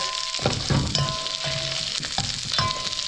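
Chicken wings being stirred and tossed with honey garlic sauce, a close, steady sizzle broken by several scraping clatters of utensil against the pan.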